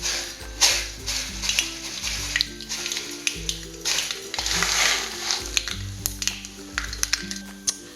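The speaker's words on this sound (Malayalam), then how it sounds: "ഇനി നമുക്ക് കടുകിടാം." Mustard seeds crackle and sizzle in hot coconut oil in a pan, a busy scattered spluttering that keeps going with no talk over it.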